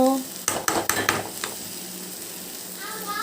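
A spatula stirs moong dal into dwarf copper leaf (ponnaganti kura) frying in a pan, giving a few close scraping clatters over a soft sizzle that dies down into quiet.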